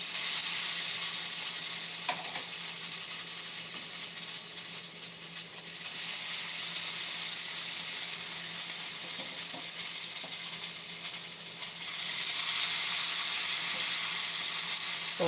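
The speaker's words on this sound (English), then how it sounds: "boil my sausage down first" Sausage cooking in a home kitchen pan at night gives a steady, close sizzling hiss with bubbling, continuous throughout and swelling slightly near the end, with no talking.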